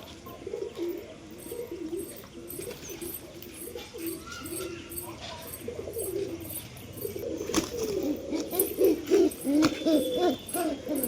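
Bihari Matajh pigeons, kept at home, coo in repeated throaty bursts close by, growing louder and more frequent toward the end.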